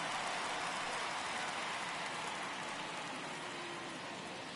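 Steady rain pours over the ballpark at Fulton County during a baseball video game, a dense, even hiss that holds at the same level throughout with no voices on top.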